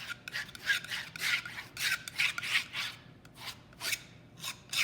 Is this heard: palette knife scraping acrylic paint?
yes